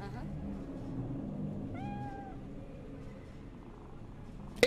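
A cat in Cyberpunk 2077 purrs as it is petted, with a low rumble under a steady background hum and one short meow partway through.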